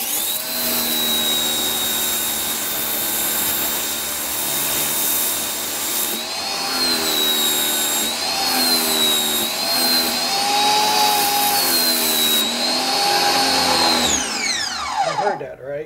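A Ryobi 1600psi electric pressure washer on its third use, losing prime: a steady loud motor-pump whine with pitch wavering and surging unevenly throughout, then dropping away sharply near the end.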